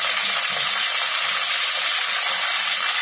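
Curry leaves and asafoetida frying in hot oil in a pan give a steady, dense sizzle with soft crackles throughout, close and even, with no talk.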